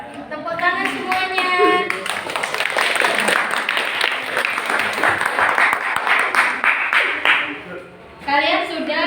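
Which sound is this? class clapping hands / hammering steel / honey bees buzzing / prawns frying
class clapping hands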